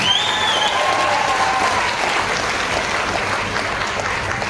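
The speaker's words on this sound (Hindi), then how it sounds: "एक बार शेप शॉप के लिए जोरदार ताली होनी चाहिए" Applause from a live seminar audience cheering for Shape Shop, a steady, dense wash of many hands clapping close and loud throughout, with no break.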